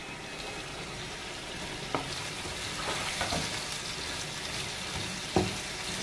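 Three medium-sized tomatoes hit a hot pan of oil and fry with a steady, even sizzle, with a few soft clinks and stirring scrapes breaking through near the middle and end.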